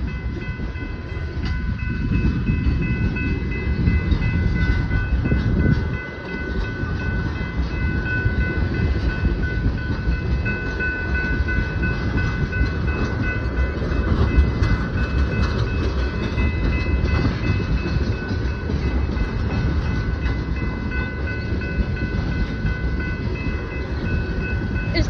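A long tanker freight train rumbles steadily past nearby, wheels droning and clanking over the rails with a continuous low roar and faint squealing tones.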